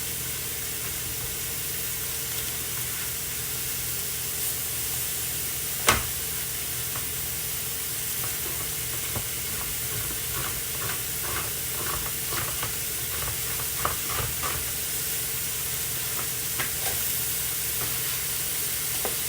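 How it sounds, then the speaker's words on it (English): Chopped onion sizzling as it fries in a pan, a steady hiss with scattered pops and crackles and one sharp clatter near the start, heard close and alone. "Putting onion right into my pan. Really cooking."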